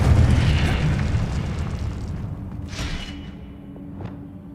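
Incendio fire spell going off in Hogwarts Legacy: a heavy booming burst at the start that rolls on and slowly fades, with a few faint sharp crackles near the end.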